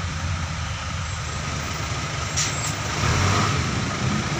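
Heavy city traffic in Baguio City with trucks and buses, a steady dense rumble of engines and road noise close by, with a brief air-brake hiss midway and the din swelling louder toward the end.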